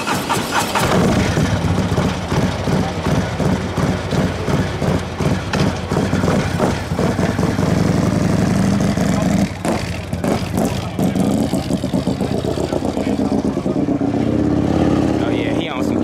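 A Harley-Davidson CVO motorcycle engine roars close and loud, its throttle blipped in steady repeated revs with a deep pulsing rumble throughout, briefly easing before revving again.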